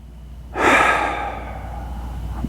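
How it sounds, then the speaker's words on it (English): One deep, close breath during a zazen meditation, a long breathy inhale that swells quickly and then tapers off, alone in a quiet room. "Straighten the back with a deep breath."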